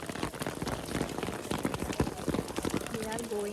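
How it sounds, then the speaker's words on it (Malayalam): Heavy rain falling at Malampuzha dam park, a dense steady patter of drops on surfaces, close and continuous. "അത് കഴിഞ്ഞ് ഉള്ളിൽ കയറിയപ്പോഴും ഫുൾ മഴയായിരുന്നു."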